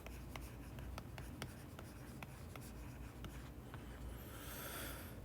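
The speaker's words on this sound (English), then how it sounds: "Or I'll actually write it out." Marker or pen writing out a physics formula for circular motion on a board, a run of short strokes and taps in steady rhythm, close and clear over a low room hum with no talking.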